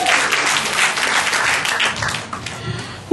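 A church congregation gives a short burst of applause for God, dense clapping lasting a few seconds and tapering slightly at the end.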